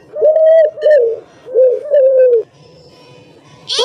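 A pigeon coos in several deep, rounded, rolling calls close to the listener, loud and clear with short pauses between them, then quieter background noise and a brief higher sound at the end; nobody talks.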